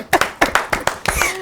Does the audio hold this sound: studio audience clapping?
yes